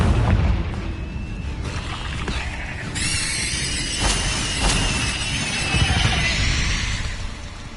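A Confringo blasting spell explodes in Hogwarts Legacy, a deep booming blast with a bright crackling burst partway through and a rumbling tail, loud and close with no talk.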